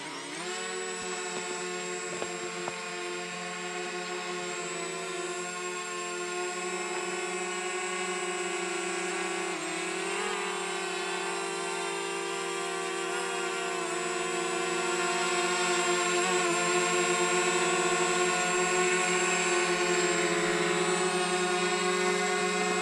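A DJI Mavic Mini drone flies nearby with a steady, high-pitched propeller whine and a layered buzz. The sound holds for the whole stretch and grows slightly louder toward the end, with no talking.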